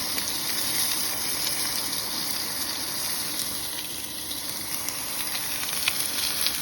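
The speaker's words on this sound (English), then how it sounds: "Got some asparagus I'm gonna throw in here. Get those cooking." A fat cap and asparagus sizzle in a pan at a snowy campsite in East Tennessee, making a steady, dense frying hiss throughout, fairly close and with no talk over it.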